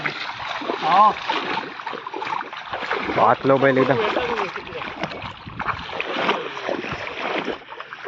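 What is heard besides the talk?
washing a bull in water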